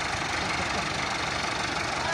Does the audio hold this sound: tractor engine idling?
yes